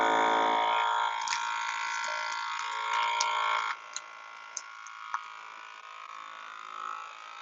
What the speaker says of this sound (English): turn her on, vacuum seal.